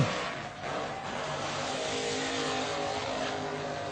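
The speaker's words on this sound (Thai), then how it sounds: "คลิปนี้ครับเป็นรถแร็คครับ" A race car engine roars steadily and loudly, revving hard under acceleration with a continuous high-pitched drone and brief throttle dips.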